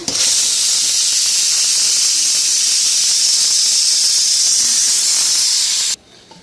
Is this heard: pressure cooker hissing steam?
yes